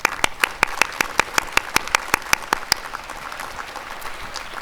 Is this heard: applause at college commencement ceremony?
yes